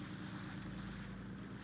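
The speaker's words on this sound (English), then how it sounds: "Contact, plane approaching on schedule." The steady, droning engine of a propeller plane, loud and continuous with a low throbbing hum and no voices, heard from a ship at sea.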